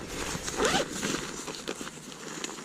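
A zipper on the top lid compartment of a backpacking pack is pulled open in one quick close rasp, with faint rustling around it.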